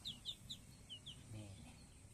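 Small ducklings and chicks huddle under a heat lamp, giving a quick run of high, thin peeps early on, then softer low chirring, all faint and close.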